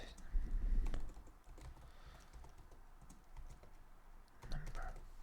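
Code is typed on a computer keyboard in a C# programming lesson: a quick run of soft, close key clicks comes first, then sparser taps, and another small flurry follows near the end.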